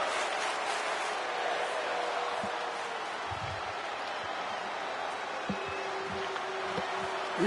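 Broad steady crowd roar from a virtual wrestling arena in WWE 2K20, continuous and moderately loud throughout, with a few faint low thuds and a brief sustained tone partway through.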